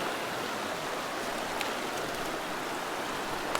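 Fast-flowing stream water rushes in a steady, close, broadband hiss while someone wades across it on foot, with faint splashes rising briefly above the constant flow.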